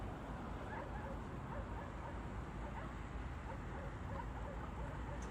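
Many dogs barking and yelping together in Rostov-on-Don after an explosion, distant and layered under a steady rumbling wash of background noise.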